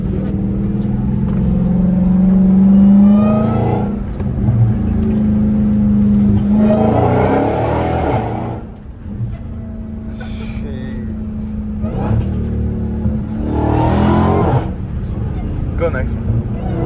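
Dodge Hellcat Redeye V8 with straight-pipe exhaust revving in loud, rising bursts between steady idle rumbles, close by, with people talking over it.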